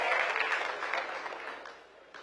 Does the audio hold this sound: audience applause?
yes